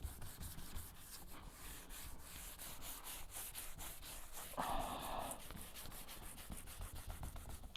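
Sandpaper of 800 grit rubbing across car paint in a garage, a steady scratchy friction running throughout at moderate level, with a brief louder, harsher pass partway through.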